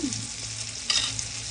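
Chili, salt, turmeric, cumin and coriander powder sizzling in hot oil in a pan, a soft continuous frying hiss with a brief louder crackle midway.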